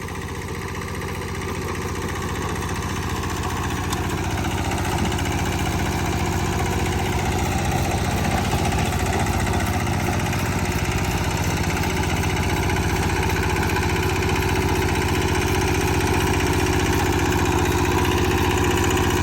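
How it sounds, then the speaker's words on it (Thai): A Kubota KRA75 diesel tiller with a 7.5 horsepower engine runs in low first gear, making a steady close chugging drone that stays loud and unchanged throughout. "นี้จะเป็น กวนดินเกียร์ช้านะคะ ก็คือรอบโลนะคะ นี้จะเป็นเกียร์หนึ่งนะคะ"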